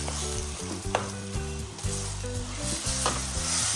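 Salmon belly sautéing with tomatoes in a pan, a loud, dense, steady sizzle with a few soft stirring sounds, heard close and alone.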